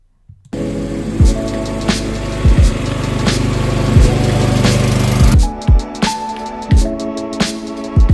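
A power lawn mower runs at close range, its engine droning loudly and steadily, with repeated thumps and bumps breaking through the noise.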